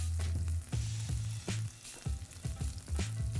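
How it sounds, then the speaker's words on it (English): Garlic and onions sizzle loudly in a hot pan for a Korean seafood noodle stir-fry, with repeated stirring scrapes and bursts of frying breaking up a steady hiss. "once you get a good sizzle going"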